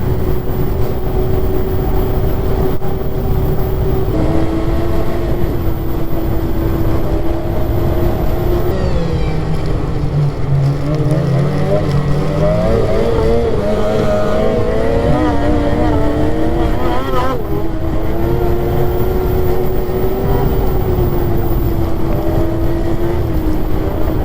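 A Titan S4 snowmobile engine revs hard and loud, climbing and surging in pitch through repeated over-revving pulls on a snowy trail at night, droning steadily throughout.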